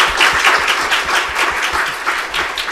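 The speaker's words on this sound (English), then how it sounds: "Please give him a big applause." Steady, sustained applause from a forum audience after a talk on investing for sustainability, dense clapping filling the whole stretch at a fairly loud level with no talking.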